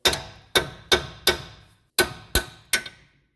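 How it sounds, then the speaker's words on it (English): Seven sharp metallic hammer blows ring out on the outer tie rod joint of a 2010 Nissan Rogue AWD, in two quick bursts of four and three, each ringing briefly before fading. "so we're going to hit it with the hammer"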